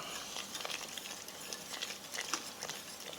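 A wire whisk scraping and swishing through thin gravy in a pan, a steady soft patter of rapid strokes close by, with no talking.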